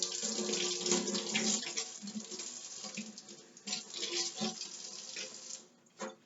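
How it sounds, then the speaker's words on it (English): Tap water runs into a sink while herbs are rinsed under it, a steady close splashing flow that shifts and breaks up as hands move the herbs, then fades near the end. "Going to rinse off my herbs."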